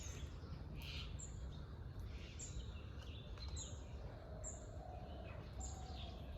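Red-whiskered bulbul, common myna and spotted dove call around Hesaraghatta Lake, a mix of short, repeated chirps and whistles over a steady low outdoor rumble, with some calls nearer and others faint in the distance.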